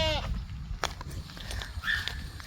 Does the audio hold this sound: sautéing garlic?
no